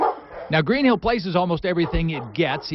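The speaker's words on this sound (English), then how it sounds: "sometimes they might just start barking" A shelter dog barks and yips repeatedly at close range while a person talks over the barking.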